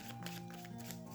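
A deck of tarot-style cards being shuffled, a continuous dense riffling rustle close to the microphone throughout, with no talk.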